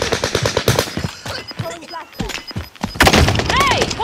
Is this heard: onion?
no